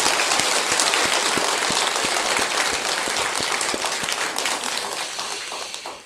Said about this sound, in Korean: 모두 다 격려하는 의미에서 큰 박수 한번 부탁합니다.